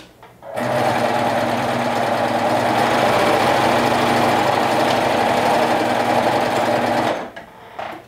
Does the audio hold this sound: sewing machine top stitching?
yes